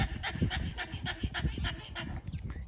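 Annie the dog gives off odd whimpering and panting sounds, a quick series of breathy pants punctuated by thin, high whines, close by with no talking.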